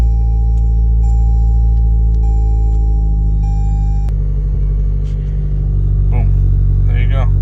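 A tuned Toyota Corolla sits with a steady low engine hum and droning tone that shifts midway as the car comes on, continuing as a constant close rumble while a person speaks briefly over it.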